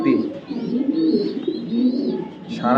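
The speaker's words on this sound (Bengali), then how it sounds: "এই কবুতরটা মাশাআল্লাহ সারা দিন ডাকে" A young red-eyed racing pigeon from 2023 coos steadily and close by in a low, throaty rolling call, ending with a brief higher note.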